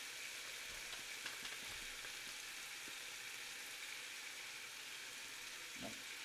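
A big onion sizzles and fries steadily in a pan for a home-cooked chicken and pasta alla Vecchia Bettola, with a few soft stirring knocks near the start and end, heard close and alone.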